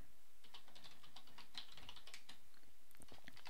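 Code being typed on a computer keyboard, a quick, close run of crisp key clicks in an uneven rhythm, fairly quiet and alone without any voice.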